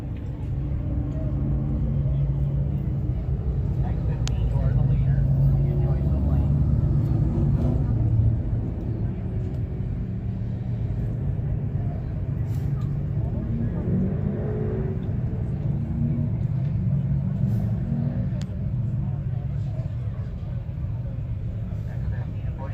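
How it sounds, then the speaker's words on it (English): Race cars and a pace truck circling a speedway, a steady loud engine rumble and drone that swells and fades as vehicles pass, continuous throughout with no clear voices. "So the pace truck's going to clear the field over on the backstretch."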